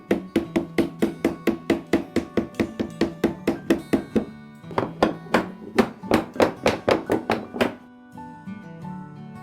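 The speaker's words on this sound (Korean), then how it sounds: "나머지 한쪽 딴 혀도 끼우면 망치로 잘 고정시킨다" A hammer taps wooden tenons into the joints of a traditional Korean Hanok window frame, a fast steady run of sharp wooden knocks in bursts with a brief pause between them, close and clear.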